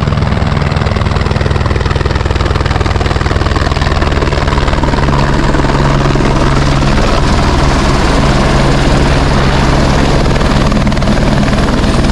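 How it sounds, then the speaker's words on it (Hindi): A helicopter on the Adi Kailash route in India roars continuously up close as it arrives, its rotor thumping and engine whining loud and steady with no pauses. "आ गई है अपनी हेलीकॉप्टर शोर मचाते हुए"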